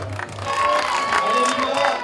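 A crowd at a Swiss village festival cheers and claps for a boy climbing, with a short burst of mixed shouting and applause close by.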